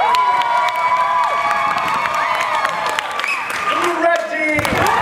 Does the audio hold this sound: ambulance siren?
no